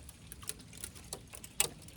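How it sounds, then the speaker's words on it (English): Tiny ice pellets of sleet ticking down in sparse, irregular light taps over a few seconds, close by and fairly faint, with one sharper hit near the end. "raining like tiny pieces of ice."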